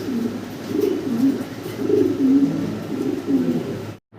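A male Mundi pigeon coos repeatedly over a hen, one of a large-sized pair, giving a steady run of low, throaty, rolling coos close by with no talking before the sound cuts off abruptly.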